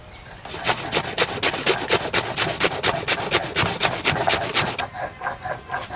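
Mustard seeds are ground into paste on a grinding stone with fast rhythmic back-and-forth rasping strokes, about twenty close scrapes in quick succession, then the strokes stop and a softer rub remains.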